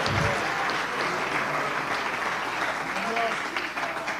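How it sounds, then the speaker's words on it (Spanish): A church congregation applauds in a steady, sustained wash of clapping that fills the room, with some indistinct crowd murmur mixed in. "denle un aplauso al Señor Jesucristo"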